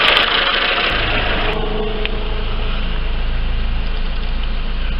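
A Lifan car engine, formerly knocking, idles steadily with a low, even rumble and a faint rhythmic pulse, close and alone without any voices.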